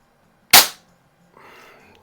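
A single sharp, loud Umarex Zelos airgun shot cracks close by over a chronograph, decaying quickly, followed after a pause by faint handling noise.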